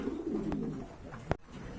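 A pair of pigeons, Shua Chandan fancy birds kept on a large farm, coo in low rolling burbles close by, with a brief sharp knock partway through.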